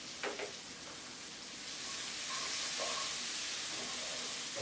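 Onions, curry leaves, mustard seeds and cumin sautéing in a pan make a soft, steady sizzle that swells slightly partway through, with a few faint clinks at the start and no talking.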